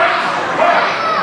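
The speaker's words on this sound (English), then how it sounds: "Here comes the crowd one more time, getting behind Orion Taylor" Crowd at a wrestling match in a full house cheering for Orion Taylor, with a steady, dense roar of voices that swells slightly midway and continues without a break.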